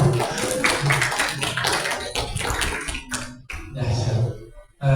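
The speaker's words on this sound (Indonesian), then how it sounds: "Tepuk tangan bapak ibu." A small round of applause from an audience at a Nuzulul Quran gathering in a mosque in Depok, with brisk, light clapping mixed with voices that stops abruptly, then a short burst follows.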